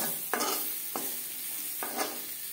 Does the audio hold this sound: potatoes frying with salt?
yes